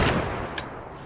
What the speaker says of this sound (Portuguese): Vou sentar o dedo nessa espingarda.